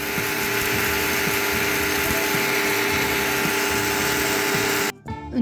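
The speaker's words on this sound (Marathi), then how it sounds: "ती आता मिक्सरच्या भांड्यामध्ये ओतून घेऊ व मिक्सरमधून वाटून घेऊ" An electric mixer grinder coarsely grinds jowar (sorghum) with a loud, steady motor whine and a rough rattling churn of grain, then cuts off abruptly near the end.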